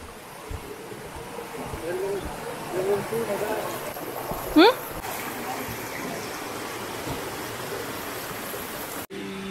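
A stream and waterfall at Peteri Pintu give a steady broadband rush of water throughout, with people talking over it and a brief whistle-like sweep partway through.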